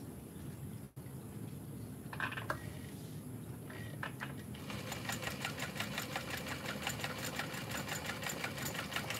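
A sewing machine bastes a piece of a bowler bag, with a few short starts at first and then a steady, even run of rapid stitching from the middle to the end.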